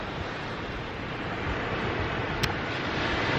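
Steady surf rolling onto a beach, a continuous broadband wash with wind buffeting the microphone, one brief sharp tick near the end, no voices.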